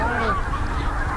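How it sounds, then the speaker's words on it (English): Geese honking during a waterfowl hunt, a dense overlapping chorus of calls, loud and continuous throughout. "Geese falling all over."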